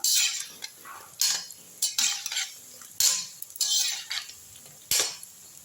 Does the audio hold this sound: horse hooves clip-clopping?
no